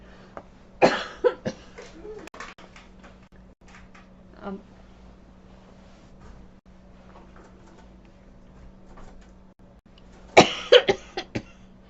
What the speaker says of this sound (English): I'm gonna have a coughing fit.